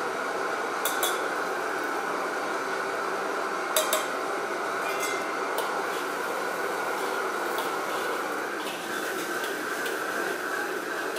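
Shiitake mushrooms and scallions stir-fried in a wok sizzle steadily, with a few sharp metallic clinks of a spatula against the pan standing out from the constant hiss.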